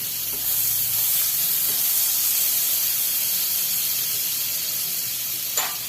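Butter melts in a hot pot for sweet corn soup, giving a steady, loud, close hiss and sizzle that holds unbroken throughout, with a brief tap near the end and no talk.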